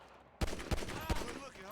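Gunfire rings out in a video game, with three sharp shots about a third of a second apart, loud and close, over a busy background hum.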